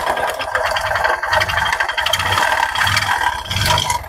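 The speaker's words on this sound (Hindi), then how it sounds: "जैसे इसमें लगता है करंट असेंबली का बेरिंग टूट गया है, इस तरह से इसमें आवाज़ आ रही है" Bajaj Platina 100 motorcycle engine with a broken bearing, a loud continuous metallic rattle and scrape over the running engine, close up and steady, with pulsing surges.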